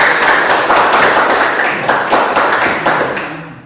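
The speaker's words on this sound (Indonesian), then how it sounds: "Oke, tepuk tangan dulu" A classroom of students at a Catholic religious studies lesson claps together in a loud, close, continuous round of applause that fades toward the end.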